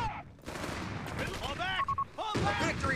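Gunfire from a World War II battle in Company of Heroes 3 multiplayer, a dense fusillade of shots crackling under shouted unit voice lines, loud and close throughout the short burst.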